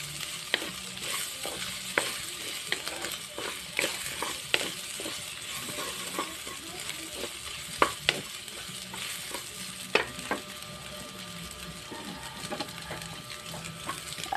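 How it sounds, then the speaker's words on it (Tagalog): Onions sautéing in a pan in rendered fat, with a steady soft sizzle and frequent scrapes and taps of a spatula stirring, close and fairly quiet. "Sariling mantika po yung yung ginisa natin."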